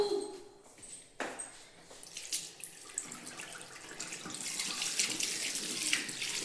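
Water runs from a tap into a sink while something is washed under it in a home kitchen. The flow is steady and builds louder toward the end, with faint clinks and shuffles early on and no talking.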